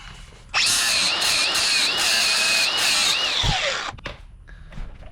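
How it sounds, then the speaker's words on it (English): A power grinder cuts into metal on the frame of a 1955 GMC 100 truck, whining loud and close in one steady burst of about three and a half seconds, its pitch wavering under load before spinning down. "Gotta grind this off a little bit."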